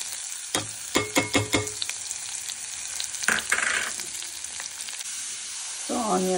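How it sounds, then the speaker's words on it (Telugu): Sliced onions sizzle with turmeric in a pan, with a quick run of sharp stirring clatters early on, then a steady frying hiss and a brief scrape near the end. "ఉల్లిపాయలు కుక్ అవుతున్నాయి కదా"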